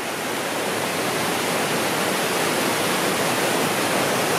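Lumb Hole Falls waterfall pouring in a steady, loud broadband roar of rushing water, constant and close throughout with no talking.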